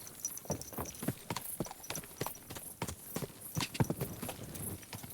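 Horse hooves galloping in Kingdom Come: Deliverance II, a newly bought fast mount, with rapid, steady clip-clop beats close up and continuous throughout.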